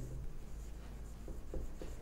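Pen writing on paper while working a class 8 maths exterior-angle problem, a steady close scratching with a few short stroke bursts, alone without talk.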